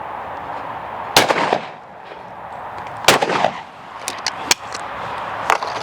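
A fine shotgun fires three sharp, loud reports spaced about two seconds apart, each followed by a short ring-down over steady outdoor ambience, with a few fainter clicks and knocks between shots.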